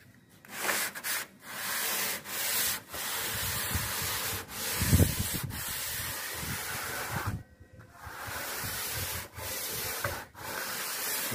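Sandpaper rubbing by hand over body filler along a car's gutter edge, a run of steady raspy strokes with short pauses between them, close and fairly loud with no talking.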